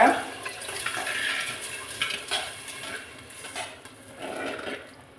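Soaked rice going into a pot for ghee rice: a close clatter of grains and water against metal, with scraping and stirring knocks in short uneven bursts, and a voice talking over part of it.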